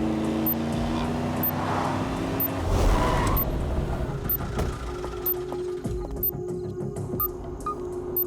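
Car being driven at speed on a road, heard as a continuous engine and road rumble throughout, with a swell of louder noise midway.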